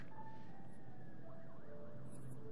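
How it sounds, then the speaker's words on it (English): A distant emergency siren wails faintly in the background of Until Dawn gameplay, its rising and falling tone sliding along under low ambient noise, with a brief high hiss near the end. "There's sirens in the background of this?"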